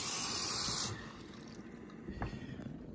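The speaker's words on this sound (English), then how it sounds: "So I'm going to be straight out of the tap here. Fill this guy up." Tap water runs into a kettle, a bright hissing stream for about a second, then softer splashing and trickling as it fills, fairly faint and close.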